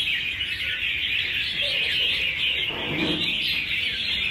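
A competition magpie-robin sings a sustained, bright warbling call that runs the whole time, loud and close, with a brief lower flutter near the end.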